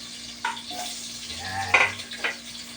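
Ginger added to a sizzling pot for chicken tinola: steady frying hiss close by, broken by a few scraping clatters as the pieces drop in and shift.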